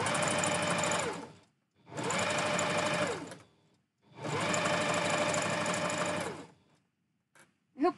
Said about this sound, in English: I hope the sewing machine isn't too loud for you guys.